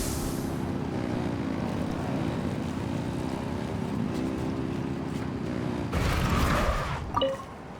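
An engine at full throttle in Genshin Impact makes a steady propeller-like drone, held at an even level for about six seconds before a brief louder burst and a short ringing chime at the end.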